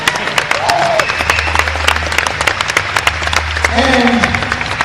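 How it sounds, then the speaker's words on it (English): A crowd applauds a championship banner for a shotgun sports national title, dense clapping filling the space alongside a voice speaking over it. "Let's give a round of applause to the championship banner."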